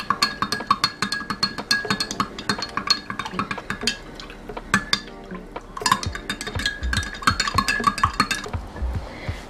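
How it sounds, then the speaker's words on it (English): A spoon stirring black seed and honey tea in a glass, with rapid close clinks and chinks of metal against glass in quick uneven bursts, briefly pausing midway before resuming, and no talking. "And then you just stir that up well until the black seed and honey melts."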